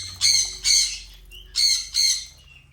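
Pet birds squawk in four loud, harsh bursts grouped in two pairs, close by, over a faint low hum with no talking.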